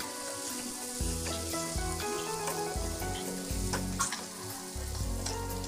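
Fried gaja sweets are dropped into hot sugar syrup, giving a loud, busy crackling sizzle close by with irregular pops and bubbling that continue without pause.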